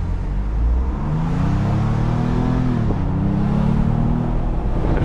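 A Ford Bronco Wildtrak's 2.7 EcoBoost V6 rumbles with a steady low revving drone, rising slightly in pitch through the middle, heard close and continuous with no talk.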